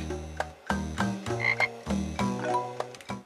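Cartoon frogs croak in a Brain Challenge HD video game, a run of repeated electronic ribbits with short musical blips, steady and close with no talking.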